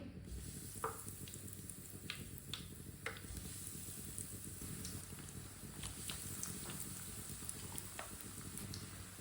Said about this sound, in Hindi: ऑयल हमारा अच्छी तरह गर्म हो चुका है। एक एक कबाब डाल लेंगे।